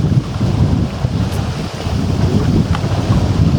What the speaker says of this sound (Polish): Chowam się za przyczepą, bo wiatr jest bardzo mocny.